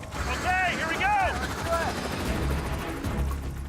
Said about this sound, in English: the second helicopter follows us in